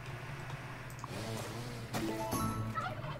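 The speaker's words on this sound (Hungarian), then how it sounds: "Na hát a király pulykák azok" Turkeys in the farming game Farm Together gobble in rapid warbling bursts over a constant low hum, with several overlapping gobbles near the end and no speech.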